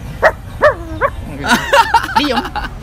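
A man imitates a dog with his voice, giving a string of short, yelping barks and whines in quick bursts, loud and close, with no other talk.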